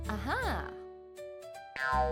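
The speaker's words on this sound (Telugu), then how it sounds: "ఆ బుడగ దాని ముఖం అంతా పగిలిపోయింది" A bouncy, springy boing-like pop of a bubblegum bubble bursting rings out, followed by a short pause and another springy burst, cartoonish and close.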